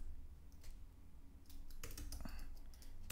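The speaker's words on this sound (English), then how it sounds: "So I will type like" Bursts of keyboard typing at a computer, quiet and somewhat distant, in short clusters of keystrokes over a low steady room hum, with no talking.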